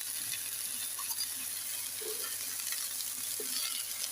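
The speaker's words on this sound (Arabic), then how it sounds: "المكونات الاخرى ها هي باقا كتحمر" Kofta and chicken burger ingredients frying in a panini press, giving a steady, soft sizzle with faint occasional pops and crackles, close by, with no talking.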